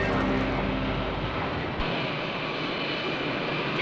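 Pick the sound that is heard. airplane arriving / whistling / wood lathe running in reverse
airplane arriving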